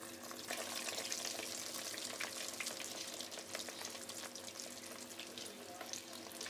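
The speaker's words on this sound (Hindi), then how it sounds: "अब हम इसमें डोनट्स में वो डाल देंगे और इन्हें हमें हल्की आंच पर फ्राई कर लेंगे।" Potato donuts frying in hot ghee over low heat, a steady soft bubbling and crackling sizzle running throughout at moderate distance.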